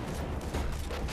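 Fireballs hurled by a mage in the Borderlands 2 shooter, a dense, continuous barrage of loud booming blasts and gunfire-like bursts with no pauses.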